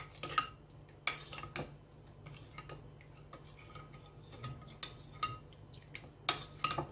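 Octopus salad stirred with olive oil in a bowl, giving light scattered clinks and scrapes of a utensil against the dish, with a few sharper taps; close and fairly quiet, no talking.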